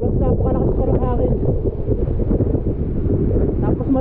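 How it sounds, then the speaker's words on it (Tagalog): Strong wind buffets the microphone at Ellenborough waterfall in New South Wales, a loud continuous low rumble filling the whole clip, with a voice talking underneath. "Plus napakalakas pa ng hangin."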